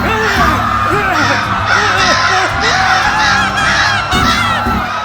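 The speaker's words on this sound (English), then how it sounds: "a giant flock of crows are now attacking him" A giant flock of crows caws in a dense, overlapping chorus, many harsh calls close by and continuous, like a frenzied attack with no pause.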